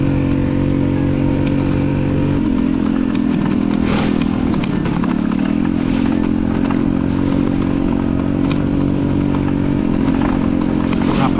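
Honda Ruckus scooter ridden off-road through mud, its small engine droning loudly and steadily with clattering and crackling from the rough trail throughout, no one speaking.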